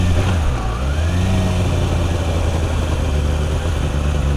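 Motorcycle engine running steadily with a deep low rumble and a faint rising whine as the rider gives it gas, continuous and close, no talk.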